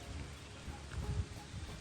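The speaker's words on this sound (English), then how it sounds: "You sure you don't wanna just sit inside and listen to it rain for a little bit longer?" Soft, steady rain patters outside a shuttle bus being converted into a camper, heard faintly from inside as an even, continuous wash with no voices.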